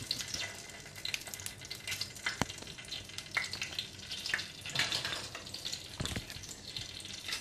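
Mustard seeds, urad dal and dried chillies fry in hot oil with a close, crackling sizzle, broken by sharp pops and occasional stirring clinks of a spoon against the pan.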